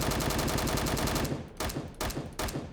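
Rapid bursts of automatic gunfire come from a lightweight video game gun with no barrel attached. One long, loud rattling stream is followed by three shorter bursts with brief gaps between them.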